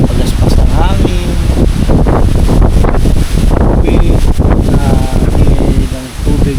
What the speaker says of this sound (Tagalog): pagaspas ng hangin